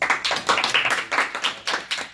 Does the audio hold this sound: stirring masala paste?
no